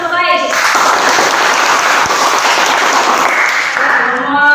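Classroom applause from a chemistry class of vocational high school students fills the room, a dense sustained wash of many hands clapping loudly and steadily, with voices faintly mixed in at the start and end.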